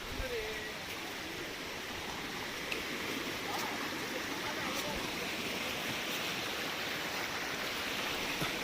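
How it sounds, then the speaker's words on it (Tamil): Mountain stream water flowing on a hill trail in the Western Ghats, a steady full hiss of rushing water close by, even and unbroken from start to end. "தண்ணி நிறையா போகுது"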